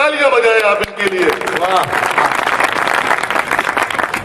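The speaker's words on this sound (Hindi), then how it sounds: "एक बार तालियां बजाएं आप इनके लिए।" An audience at a Hindi poetry recital breaks into sustained, dense clapping at close range, rising just after a voice and continuing loud and steady to the end.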